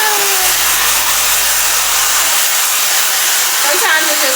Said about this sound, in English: And then we'll put the blow dryer to it.